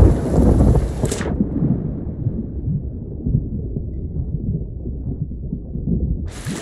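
Storm in the Sea of Thieves pirate game, with a heavy steady roar of rain and rumbling thunder at sea around a ship, loud and continuous with no talk.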